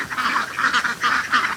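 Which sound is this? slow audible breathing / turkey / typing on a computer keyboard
turkey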